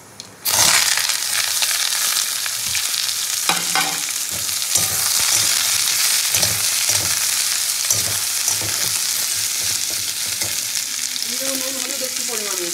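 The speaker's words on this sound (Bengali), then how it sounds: "ফোড়নটা গরম হয়ে গেলে ধুয়ে রাখা আলু উচ্ছে আর পেঁয়াজ একসঙ্গে কুচি নিচে এটা দিয়ে দেবো" Potato, bitter gourd and onion drop into hot oil tempered with mustard and dried chilli, flaring into a loud sizzle that fries on steadily under repeated stirring and scraping for several seconds.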